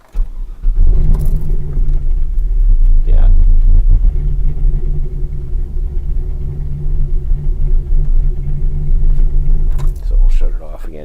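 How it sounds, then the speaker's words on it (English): Truck engine being started during idle and startup airflow tuning: an abrupt cranking catch, a short startup flare, then a loud, steady low rumbling idle that holds to the end, with a voice speaking over it. "we'll go to start the truck"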